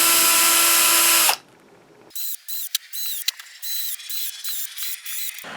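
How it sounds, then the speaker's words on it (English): A power drill whines loudly for a moment, then a series of short, high-pitched drill bursts start and stop in quick succession as holes are drilled through a rotocast piece, close and alone. "I'm going to drill these 9 forehead holes all the way through."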